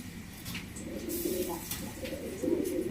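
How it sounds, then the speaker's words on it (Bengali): Fancy pigeons at a breeding farm give repeated low, rolling coos, fairly close and moderately loud, with a couple of fuller calls rising above a steady background of cooing. "দেখেন কত ভালো কবুতর একদম নতুন কবুতর ব্রিডিং শুরু করে দিচ্ছে"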